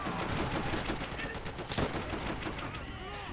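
Gunfire in the video game Call of Duty: World At War, machine-gun bursts and rifle shots rattling continuously, loud and dense, with a sharper heavy blast partway through over a busy battle din.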